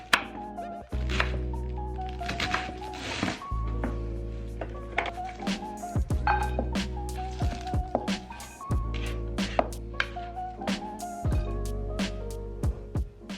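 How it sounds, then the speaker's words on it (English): A knife chops a whole cabbage on a cutting board at close range, sending sharp, irregular thunks and crisp cuts in quick bursts with short pauses between. "You just chop up a cabbage,"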